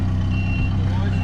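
A truck reversing at Tuff Mounts gives a steady series of backup beeps over a low engine rumble, with voices talking underneath.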